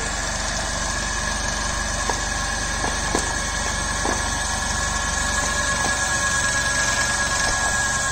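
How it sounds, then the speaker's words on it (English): A three-phase induction motor runs under a gradually increasing load on a test bench, giving a steady electrical hum and whine with faint intermittent clicks and no speech. "the speed of 3-phase induction motor start reducing but not stop"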